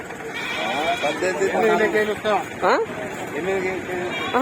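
Goats, including bucks, bleat at the busy Kothagudem livestock market, with a prominent wavering cry near the end. The calls sit amid crowd noise and people talking nearby.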